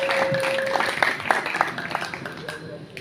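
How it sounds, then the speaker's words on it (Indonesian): An audience claps for a student poetry performer at a school creative student day event, brief scattered applause rising then fading, mixed with a host's voice speaking over it. "tepuk tangan yang meriah untuk Alex"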